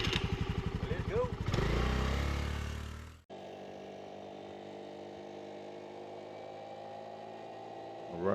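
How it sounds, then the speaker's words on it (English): A Honda Navi mini motorbike pulls away: a loud, close pulsing engine note rises and cuts out abruptly, then a steadier riding drone with wind noise continues as a rider starts talking. "All right, we're rolling on a Navi."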